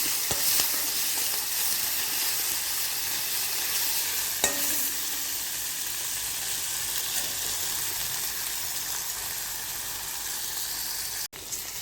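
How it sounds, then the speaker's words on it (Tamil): Onions sauté in hot oil in a pan, a continuous close sizzle with occasional stirring scrapes and a brief clunk near the end. "வெங்காயம் நல்லா வதங்கட்டும்"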